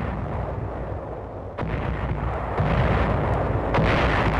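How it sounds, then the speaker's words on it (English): Naval guns of the 7th Fleet pound the southern tip of Bataan in a 1944 barrage, heavy booming reports overlapping into a continuous loud rumble with sharper blasts at intervals. "units of the 7th Fleet open up a 90-minute barrage on the southern tip of Bataan"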